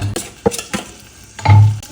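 A spoon stirs and scrapes through fried onions in a pan with garam masala powder, cumin powder, ginger paste, garlic paste and cardamom seeds, giving several close knocks and scrapes over a soft sizzle, with no voices.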